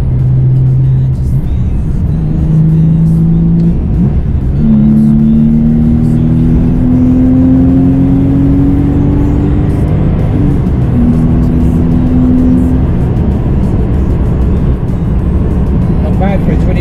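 A 22-year-old Porsche 911 (993) sports car engine revs and accelerates through rising gear pulls, a steady loud drone climbing in pitch, with a voice talking over it.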